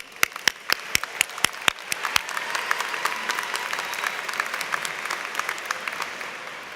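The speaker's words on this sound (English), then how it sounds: "One more round of applause." At a college commencement ceremony, a few loud, sharp close claps ring out and then merge into a large crowd's sustained applause that is steady and fairly distant.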